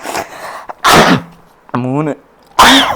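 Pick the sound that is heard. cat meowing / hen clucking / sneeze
sneeze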